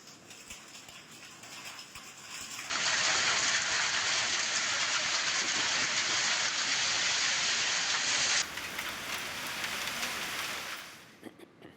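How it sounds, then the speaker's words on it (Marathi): Heavy rain and hail pelting down during a hailstorm in Vaijapur taluka, Maharashtra, a dense hissing roar that surges loudly for several seconds before easing to a lighter patter. "वैजापूर तालुक्यामध्ये जोरदार गारांचा पाऊस झालेला आहे"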